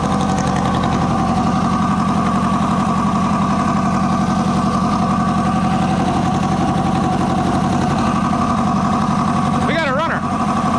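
A 1980 Kawasaki KZ750 motorcycle engine with a fuel float problem running at a loud, steady, close idle with a continuous rapid throb, and a voice speaking over it.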